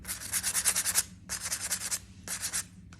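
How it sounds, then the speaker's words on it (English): Clay greenware smoothed with a scrubber pad, giving three close, dry rasping bursts of sanding strokes with short pauses between them, and no voices. "you can also sand this down with this as well if you want to"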